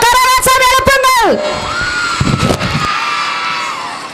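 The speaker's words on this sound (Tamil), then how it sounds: "ஆரவாரத்தோடு கரகோஷம் எழுப்புங்கள்" Audience at a college annual day function breaks into loud cheering and shouting, with a brief burst of noise early and the crowd roar continuing behind a voice over a public address system.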